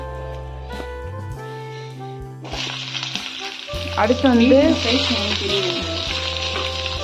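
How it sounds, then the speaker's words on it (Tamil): Loud sizzling as food hits hot ghee, crackling and spitting over a low background hum, with a brief spoken remark before the frying starts. "எல்லாம் கீல ஃப்ரை பண்ணணும்"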